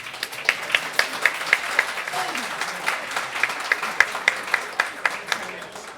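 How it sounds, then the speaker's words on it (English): A crowd applauds the honorees at an Educator of the Year award ceremony, with steady, dense clapping running throughout and a few sharper, louder claps popping out above the wash. "we would just want to give you one last round of applause before we leave"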